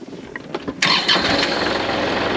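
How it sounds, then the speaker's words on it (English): Tractor engine on a hobby farm cranking and catching, a few brief starter bursts followed by the engine firing up and settling into a steady, fairly close running rumble. "I'll probably edit the tractor sound out."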